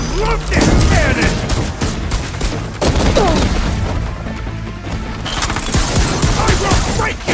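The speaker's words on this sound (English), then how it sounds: "I love this cannon!" Cannon fire in the video game Horizon Forbidden West, Burning Shores DLC: loud, dense volleys of blasts and crashing impacts roll almost continuously, layered with game effects and with a brief lull near the middle.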